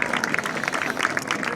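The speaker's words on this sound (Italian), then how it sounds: "Allora, chiederei ancora un applauso per questa salita incredibile." Audience applause for a climber at an interview event, a dense, steady burst of many hands clapping close and even for the whole short stretch.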